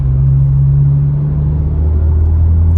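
A 10th-generation Honda Civic with a TSP Stage 1 tune accelerates through the gears, its engine a steady, loud low rumble and drone heard from inside the car with no talking.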